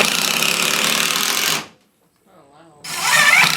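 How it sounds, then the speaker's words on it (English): A handheld drill gun whirs at full speed drilling into wood for a homemade bird feeder, a loud steady burst that cuts off, a short quiet gap, then starts again. "Drill gun?"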